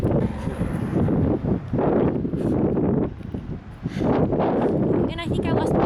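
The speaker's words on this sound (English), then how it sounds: "It's kind of windy, as you can tell by my hair going everywhere." Strong wind at a beach buffets the microphone in loud, gusty bursts with brief lulls, while people talk over it.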